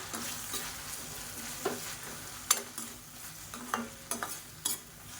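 Grated coconut and mashed tomato being stirred in a pan for chutney, soft scraping strokes with faint sizzling and a few sharper clinks of the spoon against the pan, close and fairly quiet, no voices.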